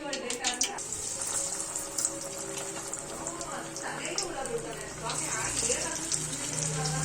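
Masala vada patties fry in hot oil with a steady, close bubbling sizzle, while a voice talks over part of it.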